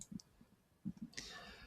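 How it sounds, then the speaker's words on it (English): Several light, close computer mouse clicks land in two small groups while someone opens sent mail in an email account, followed by a brief rustle at the end, with no voices. "I click on my sent mail."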